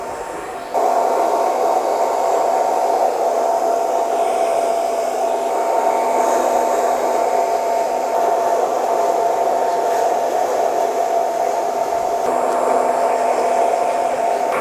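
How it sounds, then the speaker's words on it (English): A hair dryer on medium heat blows steadily on a man's hair at the crown, a loud continuous whooshing drone that switches on early and runs without a break, with no voices. "I'm just going to dry it from the crown first, okay?"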